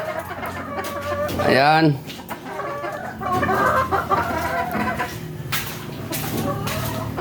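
Broodcock roosters and hens on a gamefowl breeding farm cluck repeatedly, steady and fairly close, while someone talks over them.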